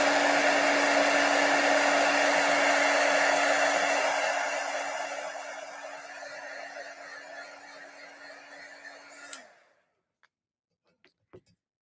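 A loud, steady blowing roar of a heat tool heat-setting embossing on stenciled wood buttons runs for about nine seconds, dips slightly, then cuts off, followed by a few faint clicks.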